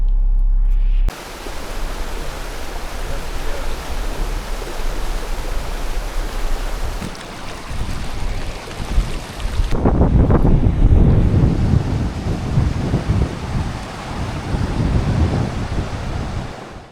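Baspa river flowing beside Chitkul village in the Kinnaur Himalaya, a steady broadband rush of water with wind buffeting the microphone, growing louder and closer partway through, with no voices.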